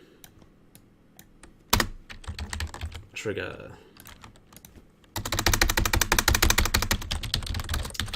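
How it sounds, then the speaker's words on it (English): Chunky computer keyboard typed on in irregular bursts, sparse clicks first, then a sharp clack and a dense, loud run of keystrokes near the end, with a brief voice in the middle. "Sorry about the keyboard, but, you know, I like a chunky keyboard."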